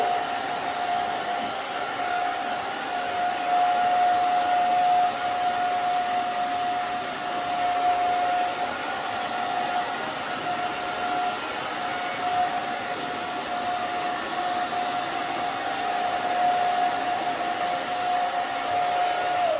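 Hair dryer blow-drying a client's hair during salon undercut styling, a steady loud whooshing roar with a constant whine running unbroken throughout, no voices.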